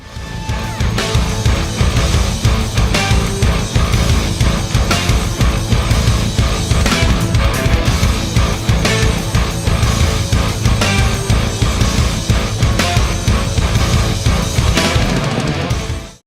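The outro section of a progressive metal song plays loud and dense, with heavy drums, guitars and blended synthesizer driving continuously until an abrupt stop.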